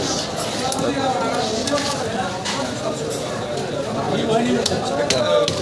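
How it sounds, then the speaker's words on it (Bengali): Knife hacking through a huge 20 kg katla fish, giving repeated wet chopping thuds and squelches, loud and close, over continuous background chatter and market bustle. "এদিকে যেটা কাটছে দেখে নাও। এটা তো কাট থেকে হিমশিম হয়ে যাচ্ছে দেখো 20 কিলো বিশাল সাইজের কাতলা"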